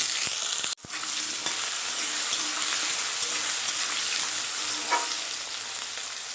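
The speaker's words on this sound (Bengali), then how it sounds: "আলুটা একটু লাল লাল ভাজা হবে, দেখো কত সুন্দর ভাজা হয়েছে।" Diced potatoes fry with mustard seeds and dried chilli in a pan, giving a loud, steady sizzle after a brief sharp break near the start, with an occasional stirring scrape and no talking.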